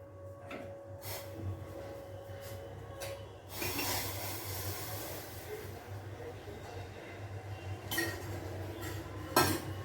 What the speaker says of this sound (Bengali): এখন চাটাকে ছেঁকে নিই